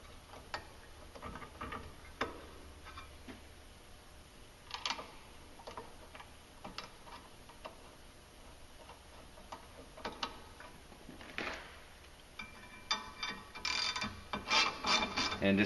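A ratchet clicks in quick repeated runs, tightening clutch cover bolts on a Polaris Sportsman 570 during a clutch kit install, faint at first and growing louder and busier toward the end.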